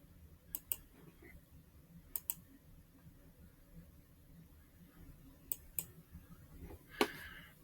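Faint computer mouse clicks in a quiet room, sharp double clicks in pairs spaced a few seconds apart against low background hum, with one louder click near the end.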